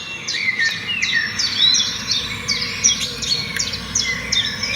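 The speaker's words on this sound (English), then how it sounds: "Me and my letter friends are listening to some bird sounds" Several birds chirp and tweet in quick repeated calls with a faint steady background hiss, and no voices are heard.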